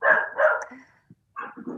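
A pet dog barks at a delivery driver with a few sharp, close barks, then a brief pause and a shorter burst of yips.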